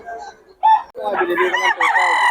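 A rooster crows loudly nearby in a long, strained call, with clucking and other fowl sounds around it.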